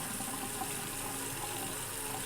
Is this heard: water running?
yes